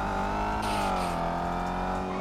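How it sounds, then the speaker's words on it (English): Engine of a Mercedes in GTA 5 running loud and close, a steady droning whine that shifts pitch slightly, with faint crackle along with it. "I like the crackles and pops on this Merc."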